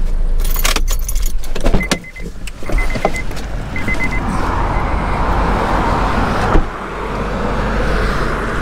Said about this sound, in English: Policeman just drove by.